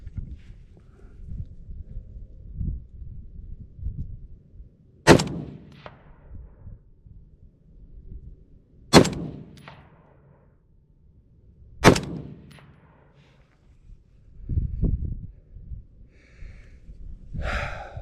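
An AR308/LR308 rifle fires NATO rounds at an outdoor range: three sharp, loud shots spaced a few seconds apart, with rustling, handling noise and breathing between them.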